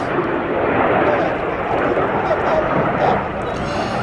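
Red Arrows jets pull a hard 5 to 6G turn at an air show, giving a steady, loud, broadband roar that holds throughout with only slight swells.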